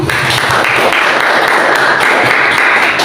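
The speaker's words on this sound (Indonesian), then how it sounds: "Tepuk tangan buat pemateri kita." An audience at a university writing workshop applauds a presenter, dense continuous clapping from many hands filling the room at steady volume throughout.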